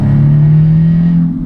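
Tuned 530bhp Audi S3 engine pulling hard, a loud, steady droning roar heard from inside the car, close and sustained, easing off slightly at the end.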